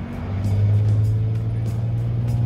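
A V-tail Bonanza's piston engine drones loudly and steadily as power comes up for the takeoff roll, heard close from the cabin with a low, even tone.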